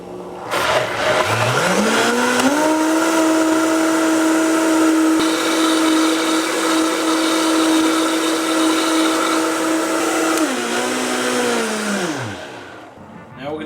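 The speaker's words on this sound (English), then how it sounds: "If I didn't have a really good blender, this wouldn't turn at all." A blender motor strains as it spins up through a thick honey marinade, then holds a loud steady whir for several seconds before winding down to a stop.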